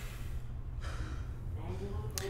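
A character in the Fallout 4 video game gasps sharply for breath, a short breathy intake followed by faint exhalations over low game ambience.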